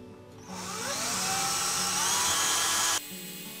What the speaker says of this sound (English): in my drill, and I will twist them.